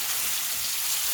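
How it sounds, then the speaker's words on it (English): Dove poppers sear in hot bacon oil, giving a steady, close hiss and crackle of frying without any talk. "Get ready to sear in about 15-20 seconds."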